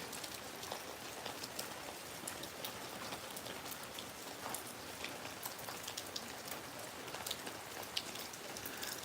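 Summer rain falls steadily in a dense, even patter on surfaces, quiet and constant from start to finish with no one speaking.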